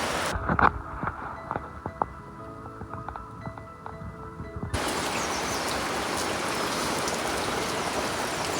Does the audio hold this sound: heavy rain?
yes